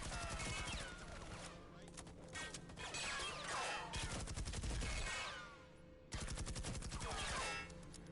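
Rapid bursts of automatic gunfire crackle in a tactical shooter match, dense overlapping volleys with sharp cracks and clattering impacts that pause briefly before resuming.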